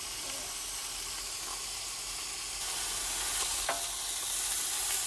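A burger fries and sizzles on a camper truck cooktop by a lake, a steady broadband hiss from start to finish with a few faint scrapes and pops, close and fairly quiet.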